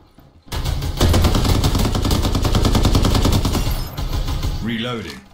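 Sustained rapid machine-gun fire in a shooting video game, loud and close, running for about four seconds with a clipped ending, followed by a brief voice.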